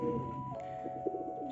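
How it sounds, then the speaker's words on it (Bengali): Pigeons in a loft give a brief soft coo, a single low warbling call that is fairly close and heard alone. "সবাই দেখতে পাচ্ছেন আজকে কবুতরগুলা কি সুন্দরভাবে খাচ্ছে।"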